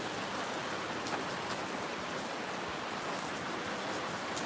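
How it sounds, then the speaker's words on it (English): Heavy summer rain pours down in Russia, a dense, unbroken hiss of drops beating on surfaces that stays loud and even from start to finish. "Heavy rain."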